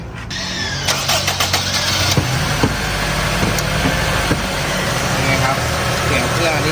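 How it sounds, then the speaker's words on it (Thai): A Honda CR-V engine with a rough-running, misfiring fault cranks and catches with a few quick clicks and revs, then settles into a steady, even idle close by. "เดี๋ยวเรามาสตาร์ทดูซิ เครื่องจะนิ่งไหม"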